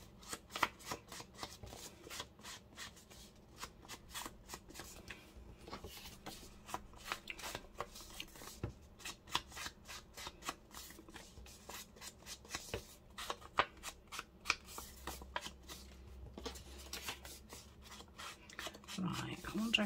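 Paper journal cards are handled and shuffled at close range, giving a steady run of soft rustles, flicks and taps for about twenty seconds, with a person talking intermittently over them.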